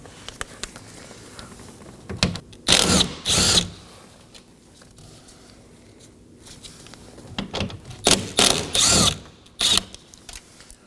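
A power tool backs out 10mm bolts holding the side mirror assembly on a 2018-2024 Chevrolet Equinox: short whirring bursts in two clusters, close and fairly loud, separated by quiet handling noise, with no speech.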